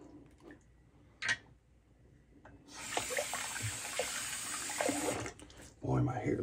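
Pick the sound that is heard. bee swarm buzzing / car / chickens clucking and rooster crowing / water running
water running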